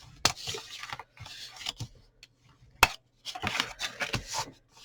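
Card for a gift box is cut in a few short, quiet snips and scrapes, separated by gaps, with no speech.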